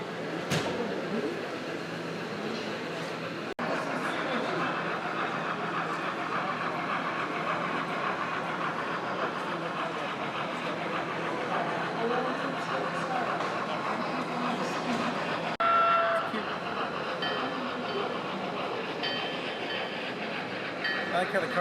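A model train locomotive runs on a layout, giving a steady rumbling clatter that continues throughout under background voices and room noise.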